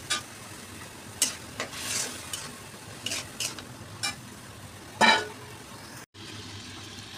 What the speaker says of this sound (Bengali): মসুর ডাল আর আলু দিয়ে দিলাম। এখন একটা কষিয়ে নেব।